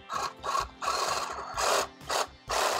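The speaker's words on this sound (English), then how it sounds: "So I'm gonna saw" A hand saw cuts through the root ball of a house plant being divided, rough rasping strokes in a quick back-and-forth rhythm, close and alone.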